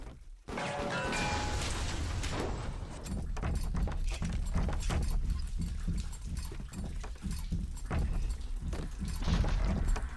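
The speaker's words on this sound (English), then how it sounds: "Now we can clop, clop, clop around." Booted footsteps clop in a steady, evenly spaced rhythm across a hard floor in BioShock Remastered, heavy and close over a constant low ambient rumble, with no talking.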